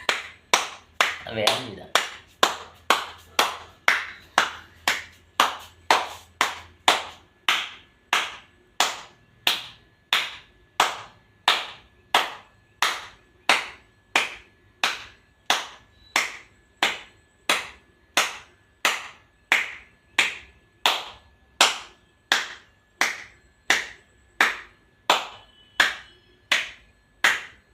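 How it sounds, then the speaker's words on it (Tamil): Steady, evenly spaced hand claps repeat for about half a minute, crisp and moderately close, with a brief spoken phrase near the start. "கைத்தட்டு"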